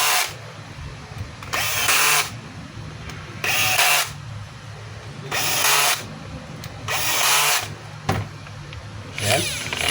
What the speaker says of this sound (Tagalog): So, ayan mga kabay, higpitan na natin yung screw